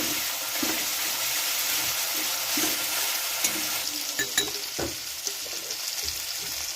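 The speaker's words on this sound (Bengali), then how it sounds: "এবার আদা রসুনের পেস্টটা দিয়ে দিলাম।" Ginger garlic paste and chopped tomato sizzle loudly in a hot pan, a dense, close crackle with scattered pops and occasional stirring scrapes, with no talk.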